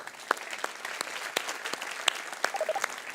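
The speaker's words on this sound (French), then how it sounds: "On peut l'applaudir." An audience at a tech keynote applauds Pepper the robot with scattered, fairly quiet clapping that has distinct individual claps, with a brief faint sound from the stage near the end.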